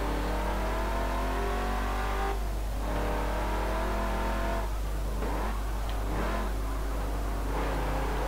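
A Shelby Cobra engine in the racing game Forza Motorsport 7 drones steadily at high revs, with harmonic pitch sweeps and several quick dips and surges as gears shift, loud and continuous throughout.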